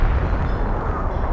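German gunfire in the WWII strategy game Company of Heroes, during the British campaign at Hill 112 near Caen: a dense, steady roar of battle noise with no distinct separate shots, loud and close throughout.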